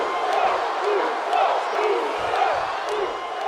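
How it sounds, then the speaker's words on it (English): A video-game wrestling arena crowd in WWE 2K25 roars and cheers steadily, a dense wash of shouting voices with periodic swells, sustained at full volume throughout. "The crowd is on their feet for Jey Uso"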